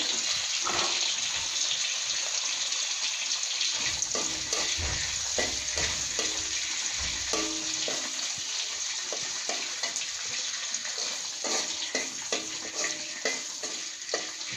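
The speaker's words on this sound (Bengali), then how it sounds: "প্রথমে শুটকিগুলো ভেজে নিচ্ছি তেলে" Dried fish sizzles and crackles in hot oil in a pan, a steady frying hiss with occasional stirring scrapes and clinks throughout, close and fairly loud.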